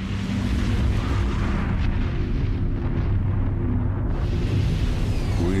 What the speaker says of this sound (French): On a entendu un grondement et une explosion terrible.